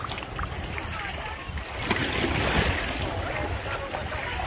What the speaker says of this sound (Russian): Вода брызгает.